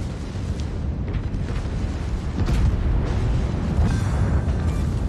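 Heavy battleship shells striking an enemy citadel in World of Warships, a Halloween 2017 game mode, land as a dense, continuous rumble of booming impacts and explosions that swells louder midway and stays loud to the end.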